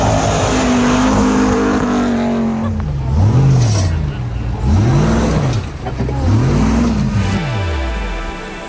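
A 2020 Ram TRX pickup's engine roars loudly and steadily, with several rising and falling revs in the middle as the throttle is blipped, running alone with no talk.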